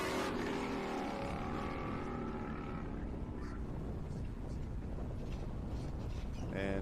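Bagger racing motorcycles at Motorsport Park Hastings roar continuously as they accelerate on the track, a loud, dense engine drone with a commentator's voice running over it.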